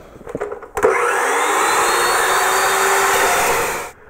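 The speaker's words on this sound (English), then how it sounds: "so I'm going to try and make this miter cut again" Evolution S380CPS 15-inch metal cutting chop saw making a miter cut, a few clicks then the motor spinning up to a loud steady whine with a grinding cutting roar, sustained about three seconds before stopping abruptly, close by with no speech.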